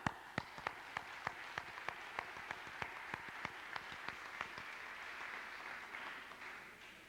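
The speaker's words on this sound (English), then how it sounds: "I'd like to give your parents a good applause out there." A small audience at a 1992 high school academic awards ceremony claps for the students' parents, a sparse, fairly quiet round of distinct hand claps that gradually thins out.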